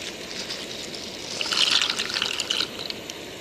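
Water heating in a metal canteen cup on a camp stove, starting to come to a boil with a steady hiss and soft bubbling that swells briefly in the middle, close and fairly quiet.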